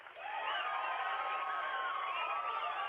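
A television show's studio audience cheers and whoops for a contestant from Seattle, a loud, steady, continuous crowd roar with a few brief voices rising above it.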